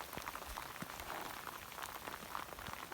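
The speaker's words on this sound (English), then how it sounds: "It's raining again." Rain falling in the Ansel Adams Wilderness near Garnet Lake, a faint steady patter of drops with scattered louder taps, heard alone with no talking.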